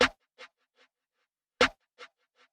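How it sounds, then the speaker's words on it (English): Two snare hits about a second and a half apart, each through a Valhalla Supermassive reverb plugin, trailed by a long shimmering reverb tail with faint echoing repeats fading out. "this snare here, I put a Valhalla Supermassive on there."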